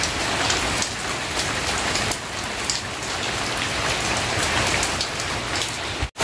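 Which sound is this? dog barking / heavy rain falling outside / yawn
heavy rain falling outside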